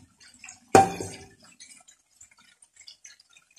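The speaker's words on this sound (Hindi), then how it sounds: "इसमें हम अभी मछली डालेंगे।" Pieces of fish dropped into hot, oily curry gravy in a cooking pot give one sharp splash and sizzle, followed by faint scattered bubbling and crackling.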